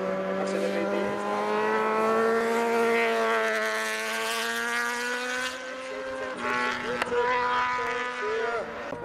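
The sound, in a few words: Yamaha R1 superbike racing at a hill climb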